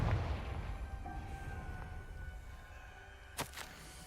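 An explosive Confringo spell in Hogwarts Legacy: a heavy low boom that rumbles and slowly fades over a few seconds, then a short sharp crack near the end, fairly distant and with no voices.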